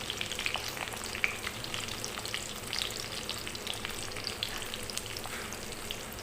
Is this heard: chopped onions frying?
yes